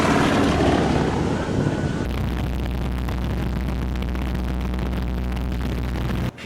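Jet aircraft rolling down a runway at a skydiving event, a loud steady engine roar and broadband whoosh that holds for several seconds before cutting off abruptly.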